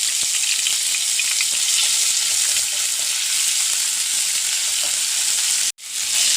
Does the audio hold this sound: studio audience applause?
no